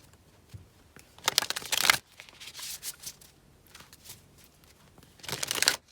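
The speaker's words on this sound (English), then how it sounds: "Let's get your oracle cards." Oracle cards being shuffled by hand during a pick-a-card reading, two bursts of soft papery riffling with quiet rustling between them, no voice.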